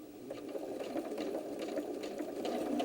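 A sewing machine stitches quilt half-square triangles on the diagonal with a scant quarter-inch seam, a rapid, steady mechanical whir with fine clicking needle strokes, close up and with no voices.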